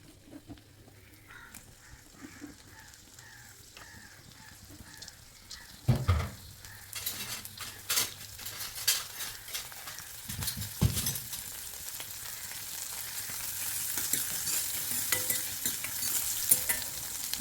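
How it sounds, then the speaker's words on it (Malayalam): Dried fish frying in hot coconut oil in a Kochi-style home kitchen, a steady close sizzle with scraping stir strokes that swell louder midway, while crows caw outside. "ഉണക്കമീൻ വറുക്കാൻ ഞാൻ വെളിച്ചെണ്ണയാണ് കേട്ടോ ഒഴിക്കണത്."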